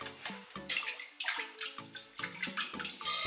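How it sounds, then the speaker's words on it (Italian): Tap water runs and splashes steadily in bursts as rice is rinsed underneath it, close and fairly loud, with no talking. "Inizio sciacquando il riso sotto l'acqua corrente finché non è trasparente."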